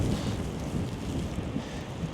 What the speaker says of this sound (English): And it's very windy.